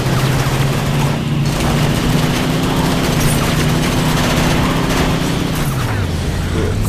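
In the racing game Full Auto, a car explodes behind the player amid constant loud engine roar and dense crackling gunfire, with the engine drone dropping in pitch near the end.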